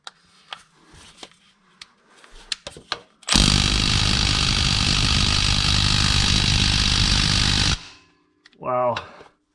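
Power tool loosening bolts on the starter of a Jeep JK with a Pentastar engine: a steady, loud whirring run of about four seconds, preceded by clanks and light handling noises and followed by a short rising whine.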